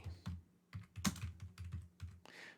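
Quick, uneven keystrokes on a computer keyboard, close and fairly quiet, forming a short burst of typing with a few louder taps, no voices present.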